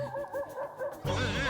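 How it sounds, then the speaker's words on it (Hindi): A dog cries and whimpers in a steady run of high, wavering whines, close and moderately loud, growing fuller and noisier near the end. "ये कुत्ता रो रहा है"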